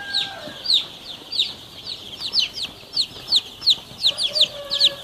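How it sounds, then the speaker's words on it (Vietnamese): A flock of two-day-old chicks under a brooder heat lamp cheeps continuously, with rapid, high, overlapping peeps close by and no talking. "Đây là đàn gà hôm nay là 2 ngày tuổi"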